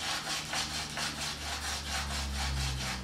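A hand-drill spindle spun between the palms on a wooden hearth board for friction fire, giving a steady rhythmic rasping rub that repeats about four times a second, close and continuous with no talking.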